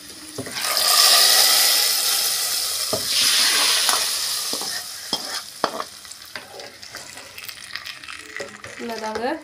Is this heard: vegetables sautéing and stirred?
yes